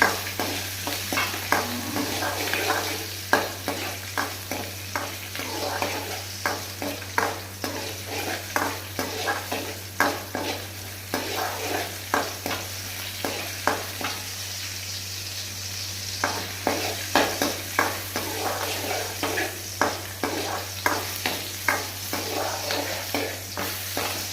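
Garlic sizzles steadily in hot oil while a spoon stirs and scrapes the pan in repeated strokes, with no talking, while making gongura pickle.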